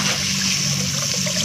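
Strong-pressure water sprays steadily while something is being washed, a dense, loud, continuous hiss close by with no voices.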